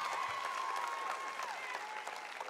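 An audience claps continuously, a dense, even wash of many hands filling the room with no break, while a faint voice carries underneath.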